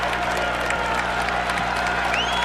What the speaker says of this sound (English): The Siena crowd that's here rises and applauds.